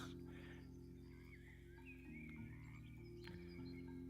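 Frogs croak in the FoxTail 2 video game world, a faint chorus of repeated short croaks over a steady low hum, distant and quiet with no talk.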